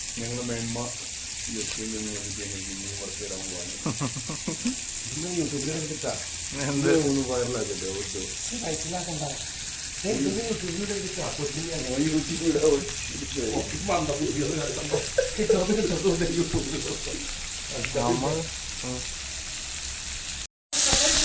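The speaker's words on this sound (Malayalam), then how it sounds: "ഇത് നല്ലതായിട്ട് ഫ്രൈ ആയിട്ട് വരും." Food frying in a pan for a home party meal, a continuous sizzle running under steady talking throughout.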